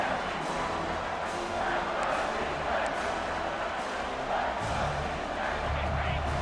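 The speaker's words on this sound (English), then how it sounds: "This crowd rising up, sensing that its defense needs some help" A video-game stadium crowd in EA Sports College Football 26 swells into a steady, dense roar during a football game, with a low rumble that thickens toward the end.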